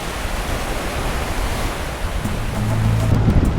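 Surf pounding a rocky, coral-lined island shore, a steady broadband wash of breaking waves that swells louder near the end, with faint low tones underneath.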